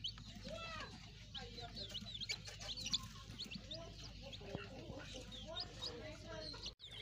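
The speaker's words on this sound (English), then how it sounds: "This is another hen with its own chicks" A hen clucks softly while chicks peep in high, rapid chirps all around, fairly close and continuous, with faint low background noise.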